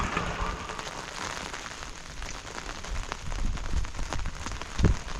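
Steady rain patters and splashes on surfaces close by, forming a dense, continuous hiss with occasional heavier drops and thumps.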